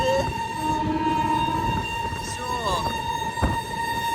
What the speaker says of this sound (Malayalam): അയ്യോ, എന്തൊരു ഹോണടിയാണോ എന്തോ